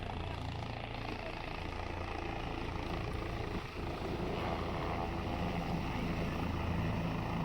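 A helicopter arriving at the Kedarnath helipad produces a continuous loud rotor and engine roar from nearby, steady throughout with no break.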